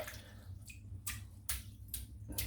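Shaving brush used for a pre-op head shave, heavily used and left to dry between uses, flicked to shake off excess water: several sharp wet flicks and splats, close and distinct, spaced about half a second apart over a low steady hum.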